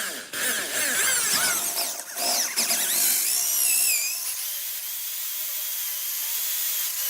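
A sharp drill bit bores out a plumbing fitting, giving a loud, continuous whining grind that rises and wavers in pitch for several seconds, then settles into a steadier, quieter hum as the bit cuts through.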